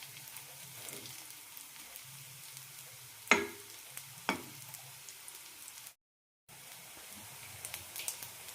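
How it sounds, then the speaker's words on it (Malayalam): Veg cutlets fry in a pan over a low flame with a quiet, steady sizzle, broken by two brief scraping knocks and a short gap. "ലോ ഫ്ലെയിമിലിട്ട് രണ്ട് സൈഡും നന്നായി മൊരിച്ചെടുക്കാം"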